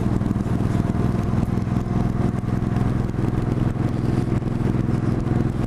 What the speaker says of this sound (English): you got a Ferrari Testarossa and a bunch of bikes